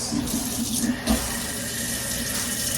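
A kitchen tap runs steadily into the sink while potatoes are scrubbed with a brush and a little soap, a close, continuous splashing rush with a faint bump partway through.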